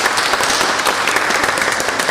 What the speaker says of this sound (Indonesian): Bapak dan Ibu, mari kita tepuk tangan untuk